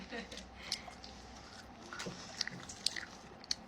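Someone biting into and chewing cooked shrimp, with soft crunches and wet squishing, several sharp bites close to the microphone over a faint room background.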